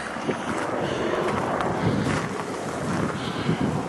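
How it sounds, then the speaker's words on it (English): Water trickles in a small garden water feature in Reykjavik, a steady broadband splash and gurgle with a faint wind rumble underneath, no voices. "Here, a lovely little water feature."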